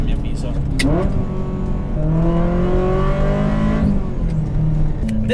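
A Ferrari fitted with winter tyres descending a mountain road from Sestriere, its engine loud and close, pitch rising and falling through gear changes, with a voice talking over it.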